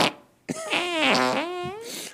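A drawn-out, squeaky fart with a rising and falling pitch that stretches over about a second and a half, loud and close after a brief quiet moment.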